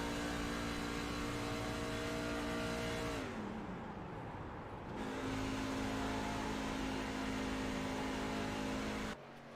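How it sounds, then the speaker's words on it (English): Onboard sound from a Truck Series race truck, its engine droning at steady high revs, then the note dropping sharply as the driver backs off to save fuel before climbing back up, with a brief cutout near the end. "So you can hear from race leader Matthew Lee just how hard he is killing the engine to try and save a little bit of fuel."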